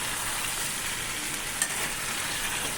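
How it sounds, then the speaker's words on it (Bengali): Spice paste thinned with water fries in oil for egg curry, producing a loud, close, continuous sizzle and crackle with no voices over it. "এই যে মশলা ধোয়া জলটা দিলাম, দিয়ে তেল ছেড়ে গেছে"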